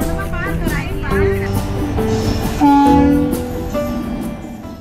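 A train horn blares with a long sustained tone over the rumble of passing rail cars at a railway crossing near Ayodhya, loud and close, with faint voices in the background.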